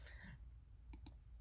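A computer mouse gives two quick, faint clicks close together over a low background hum.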